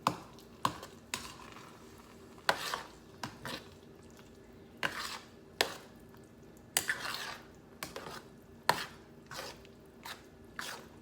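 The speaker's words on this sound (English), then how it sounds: "Make sure that marinara is all stirred up in here really well" Marinara sauce being stirred in a cooking pot for stuffed green peppers, with a series of sharp spoon-on-pot clinks and scrapes at irregular intervals, close and moderately loud with no talking.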